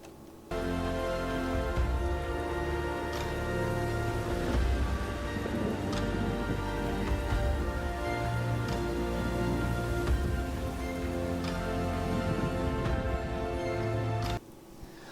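Steady rain falling in the Farming Simulator 25 video game, heard from inside a truck as a continuous close hiss with scattered drops, running unbroken for most of the span before cutting off abruptly, with no talk.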